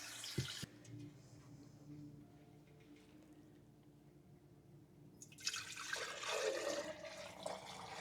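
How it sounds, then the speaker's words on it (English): Water runs from a kitchen tap as hands are rinsed under it, a brief splash at the start and then a louder rushing stream near the end, close and without talk. "I'll rinse off the worst of the mess off my hands."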